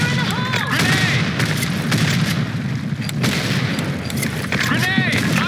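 A grenade explosion and gunfire in a video game, heard as dense, continuous booming and rapid shots throughout the stretch, with voices talking over it.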